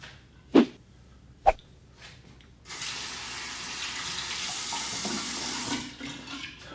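A tap runs hot water to rinse a diamond-faceted Goodfellas Smile Valynor safety razor during a shave. Two sharp knocks come first, then a steady hiss of running water for about three seconds before it stops.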